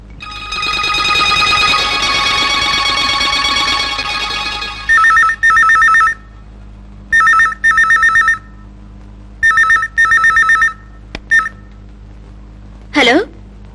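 A telephone rings in repeated loud electronic bursts, one continuous ring first and then several paired rings separated by silence, with a brief rising electronic tone at the end.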